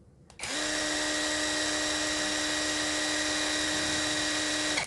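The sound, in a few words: Kamolee 20V impact driver running at high speed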